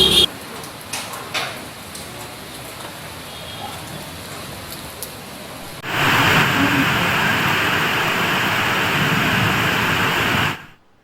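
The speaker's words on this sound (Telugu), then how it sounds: "ఫుల్ వర్షం పడుతుంది." Steady heavy rain in Hyderabad hissing broadband, quieter at first with a few brief knocks, then suddenly louder and dense for several seconds before cutting off.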